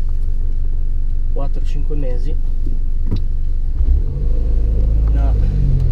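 A 2011 Mini Cooper S with a 1.6 turbo engine rumbles steadily from inside the cabin while driving, a low continuous drone with a swell in the last two seconds, under someone talking.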